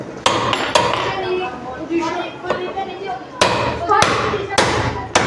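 Sharp metallic hammer blows driving a bearing plate onto a washing machine motor, several loud ringing strikes in irregular bursts, clustered near the end, over a busy workshop background.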